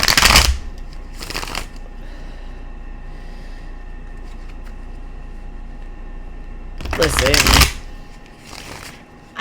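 Tarot cards riffle-shuffled for a reading in short, loud, close bursts, one at the start, one just after and a longer one near the end, with a voice talking briefly.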